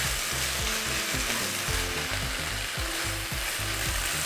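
Fish cake stir-fries in a pan, a continuous close sizzle with rhythmic scraping strokes of the spatula for eomuk bokkeum, a Korean side dish.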